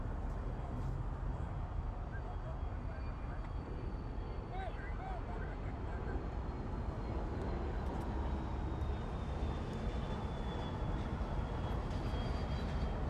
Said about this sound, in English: This is China Eastern's 777-300ER in the CIIE livery with the panda on the back.